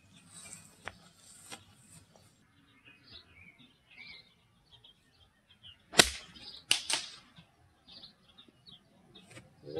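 Golf club striking a ball on a 7-iron punch-and-run shot on a course, a sharp crack midway through, surrounded by faint outdoor bird chirps.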